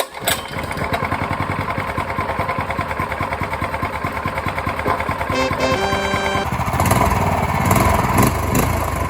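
A cheap go-kart's small engine, newly back in order after being hydrolocked, runs steadily with a rapid, buzzing idle, then revs up louder near the end, close and continuous.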